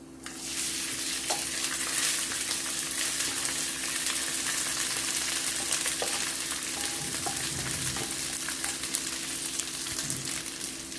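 Curry leaves and spices tempering in hot oil in a pan for curry leaf rice, a steady dense sizzle and crackle close up throughout, with occasional stirring clinks and scrapes, no talking.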